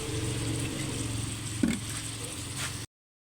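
Chicken drumsticks sauté in a pot with fish sauce for tinola, a steady moderate sizzle with a brief clatter of stirring partway through, then cutting off abruptly.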